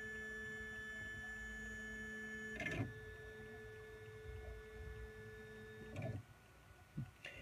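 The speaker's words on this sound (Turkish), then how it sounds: "Makine kendini açacak." A Janome MC200e computerized embroidery machine powers on with a steady, faint electrical hum and a high tonal whine. A few soft mechanical clunks are spaced several seconds apart, and no one speaks.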